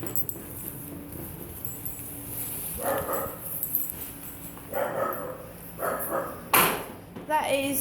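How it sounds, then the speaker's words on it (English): A neighbouring dog next door barks in a few short bursts at a moderate distance, with quieter gaps between them, over steady outdoor background noise. "That's next door's dog barking at me."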